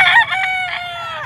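A rooster crows once, loud and close, with a chicken's cluck at the start, among a Filipino farmer's flock in Barangay San Miguel, Padre Garcia, Batangas.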